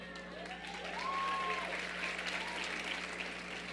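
A church congregation applauds during a service, broad clapping that swells and holds at moderate volume, with a steady low hum underneath and a few voices rising over the crowd.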